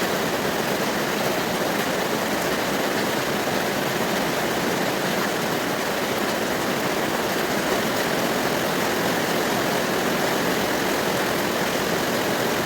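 Heavy rain pours down steadily, filling the air with a dense, unbroken roar that stays loud and even throughout, with no voices.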